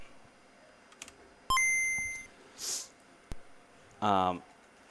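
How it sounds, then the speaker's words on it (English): Electronic beeps from the Harry Potter and the Philosopher's Stone Game Boy Color video game: one sharp long tone followed by a few shorter bleeps, separated by pauses, with occasional faint voices and noises around them. "So you're going to hear 5 beeps."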